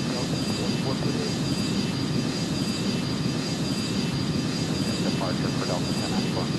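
An Airbus A310 jet takes off with a steady, broad engine roar that holds loud and constant throughout, with voices talking faintly underneath.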